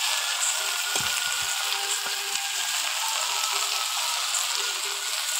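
Fried shrimp dropped into taro greens cooking in a pan, giving a steady soft sizzle with a few brief clatters and stirring noises near the start, no talking.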